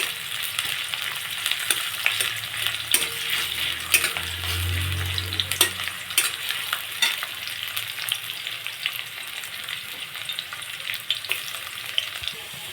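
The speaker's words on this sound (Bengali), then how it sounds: "মাছটা বেশ বেশ ভাজা ভাজা হয়ে গেছে" Oil sizzles and crackles steadily as katla fish fries in a pan, with occasional light scraping and stirring close by.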